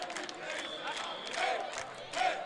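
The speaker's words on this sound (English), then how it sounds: "On the other side, finally Austria is cheering" A crowd cheers and shouts at a women's semifinal match, a distant, muffled roar that swells in waves, with faint talk beneath it.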